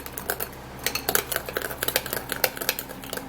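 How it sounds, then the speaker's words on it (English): A utensil clicks rapidly and rhythmically against a bowl while egg white is beaten into a hand treatment, close and fairly loud with a brief pause near the start. "and then mix it really good"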